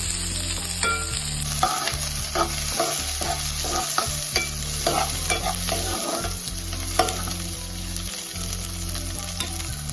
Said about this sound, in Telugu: ఒక 5 పచ్చిమిర్చి లాంటివి కొంచెం ఆనియన్ అనేది పచ్చివాసన పోయే వరకు వేగనివ్వాలి